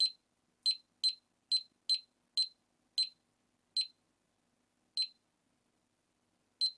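An LED DIY clock kit emits about a dozen short, sharp electronic beeps at uneven intervals, each one clear and isolated against near silence.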